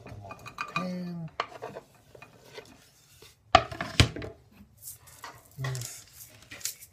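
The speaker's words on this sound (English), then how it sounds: "Alright, put them all in the pan." Bamboo shoots clatter into a pan in scattered knocks and a loud wooden thump, followed by scraping and a light sizzle, with brief speech in between.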